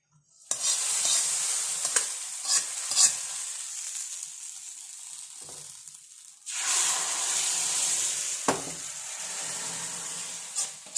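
Food stir-fries in a hot pan with a bright, hissing sizzle and scraping stirs; the sizzle dips, then surges again as more is tossed, with occasional sharp clatters.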